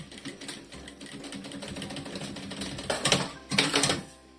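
A sewing machine runs a finishing seam through leatherette on a small toiletry bag, a steady mechanical stitching patter that swells into two louder bursts near the end.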